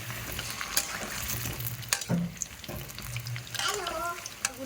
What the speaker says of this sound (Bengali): আমি আলুগুলো এবার ভাজা করে নেব তেলটা ফুটছে